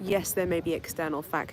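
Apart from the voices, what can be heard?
No everyday noises stand out.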